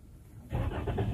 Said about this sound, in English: Then we turn on the vehicle.